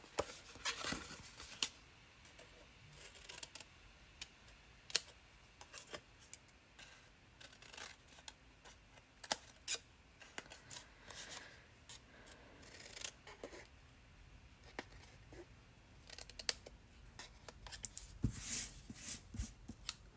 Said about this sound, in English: And just cut some notches.